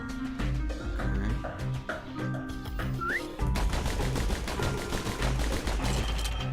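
Rapid gunfire fills a target-shooting challenge in the video game Bastion, a steady rattle of quick shots over looping game music, growing denser and louder in the second half.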